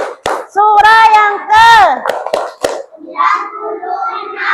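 A classroom of children claps along while singing a chant about Surah Al-Alaq. Sharp, rhythmic hand claps punctuate loud, close sung voices.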